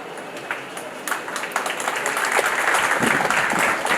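An audience applauds at a university job fair offer letter ceremony, clapping starting sparse and building into a sustained, full round of applause.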